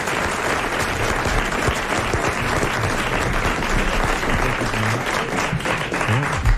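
Studio audience applause on a French television talk show, a dense, loud and steady wash of clapping that holds at full strength for the whole stretch with no talking over it.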